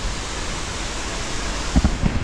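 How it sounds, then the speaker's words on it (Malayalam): A waterfall beside the Calvary Mount route in Idukki, running low in a drier spell, gives a steady, loud broadband rush of falling water with a few heavier thuds near the end and no voices. "ഇവിടെ വെള്ളച്ചാട്ടമൊക്കെ ഉണ്ട് കേട്ടോ"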